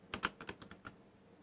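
A computer keyboard is typed on in a quick run of about eight soft, close keystrokes over roughly a second, with no voice, then silence.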